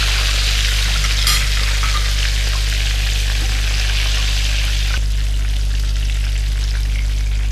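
Tangy chicken drumsticks fry in hot oil, a dense, steady sizzle heard close up over a constant low hum, with a brief clatter partway through.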